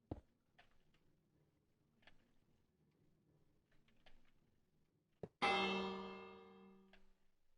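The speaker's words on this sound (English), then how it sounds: "Use a stupid bell for a monostabler?" A bell rings once with a sharp strike and a long, bright, decaying tone, after several faint soft clicks from a redstone monostable circuit in Minecraft Bedrock.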